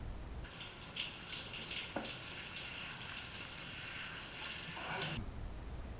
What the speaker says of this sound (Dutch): Koud douchen.